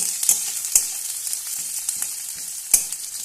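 A medium chopped onion fries in oil with a constant loud hiss, and a few sharp taps and pops come through up close, with no talking.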